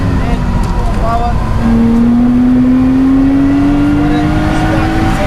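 Race car at Donington Park circuit, engine note rising steadily as it accelerates, loud and close from inside the car, with a constant droning roar and a voice talking over it.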